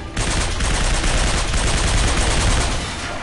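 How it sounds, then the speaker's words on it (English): A machine pistol fires in the Binary Domain video game, rattling in one loud, unbroken rapid-fire burst lasting about three seconds before cutting off. "after claiming he uses a heavy weapon, Kane uses a machine pistol"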